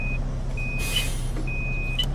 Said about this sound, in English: even though you've got a reverse beeper